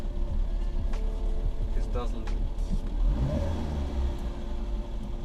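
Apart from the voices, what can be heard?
Skoda Favorit engine running with rattling timing chain noise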